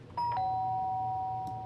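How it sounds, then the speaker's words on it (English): A two-tone ding-dong doorbell chimes once in the video game Danganronpa, a clean electronic tone whose second note rings on and slowly decays over a quiet background hum. "The sound of the doorbell forced its way into my room."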